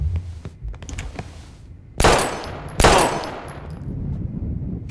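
Two loud gunshots ring out one after another in Life is Strange, each a sharp broadband crack with a decaying tail, over a dull throbbing background.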